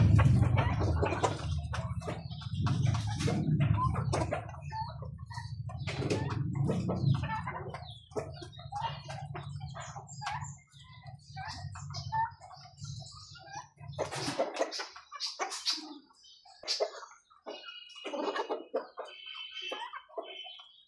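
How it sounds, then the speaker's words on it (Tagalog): Backyard chickens clucking and murmuring near the microphone at feeding time, a dense low chatter of several birds for the first half, then sparser clucks and calls with brief quiet gaps. "Meron pa tayong mga manok dito idol."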